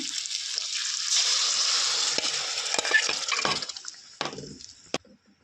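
Cooked dal poured into a pan together with its cooking water, a rushing liquid splash that tapers off, followed by a few scattered clinks and stirring sounds.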